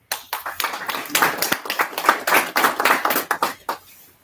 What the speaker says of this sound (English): I will also want all of us to give a hand of applause to everybody that assisted